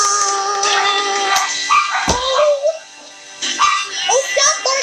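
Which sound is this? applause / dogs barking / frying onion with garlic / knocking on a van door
dogs barking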